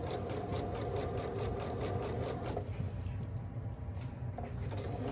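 A home sewing machine stitches elastic onto a wrap neckline. It gives a quiet, rapid, regular whirr for a few seconds, then eases into a softer hum.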